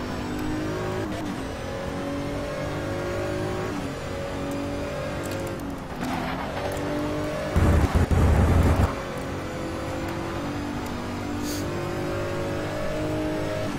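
Dodge Viper race car in the Race 07 video game, its engine droning steadily and loudly throughout, revving with shifting pitch and a brief harsher burst partway through, with no talking.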